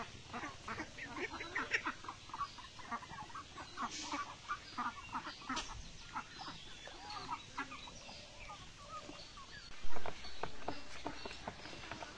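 Ducks on a farm quack and cluck around a pond beside rice fields, a steady busy chorus of calls at close to middle distance, with a louder burst near the end.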